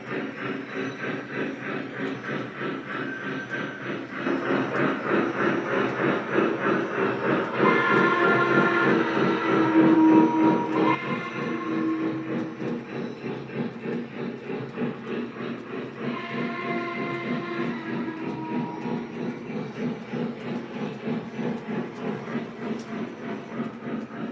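A Vision Line Class A model train runs around a layout with a steady, rhythmic clickety-clack of wheels on track. The sound swells louder and fades as the locomotive passes near, with faint whistle-like tones.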